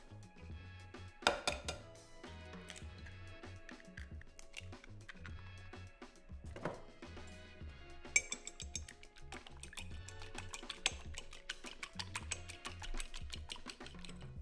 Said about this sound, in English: In a second bowl we're going to whisk up 2 eggs.